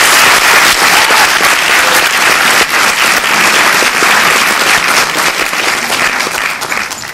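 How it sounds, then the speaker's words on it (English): A large audience at an evening inauguration event claps steadily for chief guest Rishi Kapoor, a dense, loud, sustained applause filling the hall from start to finish. "Can I please have a round of applause?"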